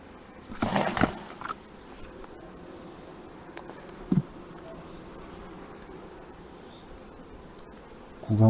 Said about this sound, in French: Bon allez, go, des abeilles.